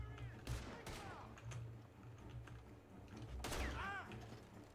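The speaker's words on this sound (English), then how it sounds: "The gunshots are coming from that barn." Gunfire from a barn in a video game: several sharp shots and bursts in quick succession, with game voices talking around them.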